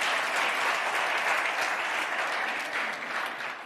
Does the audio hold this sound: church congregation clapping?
yes